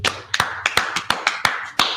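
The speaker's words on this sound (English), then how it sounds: "clap it up for the officer" A small gathering claps for a police officer at a religious class, with sparse, distinct hand claps in an irregular rhythm, fairly close and moderately loud.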